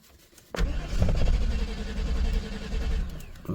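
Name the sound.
1997 GM truck 5.7 engine cranking without starting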